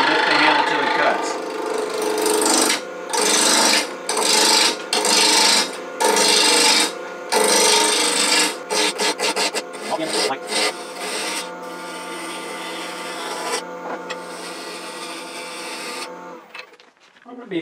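A wood lathe spins a bowl blank while a gouge rubs and cuts, giving a harsh scraping rasp in repeated bursts broken by short pauses, then a steadier, softer hum toward the end.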